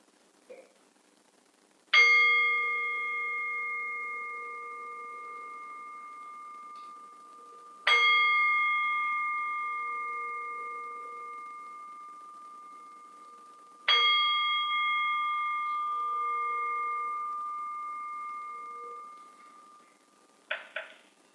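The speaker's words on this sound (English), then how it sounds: "We will begin our sacred time together by ringing our chime." A chime is struck three times at a Sunday church service, evenly spaced, each bright ring sustaining and slowly fading before the next strike; quiet room otherwise.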